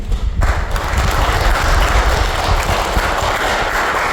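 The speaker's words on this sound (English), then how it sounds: "I hope those claps are for the Lord" Congregation applauding at a church service following a sermon, a steady wash of clapping from many hands that holds at full strength for about four seconds.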